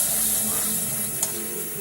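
Green chili paste fries with spices in a pan, making a loud, continuous close-up sizzle and hiss, with one brief scrape partway through.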